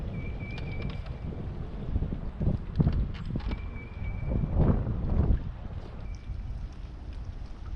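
Heavy wind gusting across Lake Lanier during pre-spawn bass fishing from a boat: steady broadband roar of wind buffeting the microphone, swelling in gusts, with faint water slap and a thin tonal whine at times, no talking.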